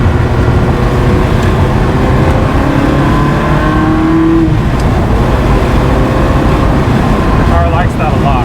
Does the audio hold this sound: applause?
no